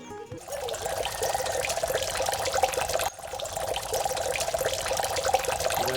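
Tap water runs steadily and close by at a sink while raw fish pieces are washed, a continuous splashing trickle that holds for the whole stretch with only a brief dip partway, no voices present.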